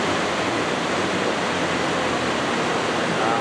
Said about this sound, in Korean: 칠연계곡에서 얻어내려는 용축폭포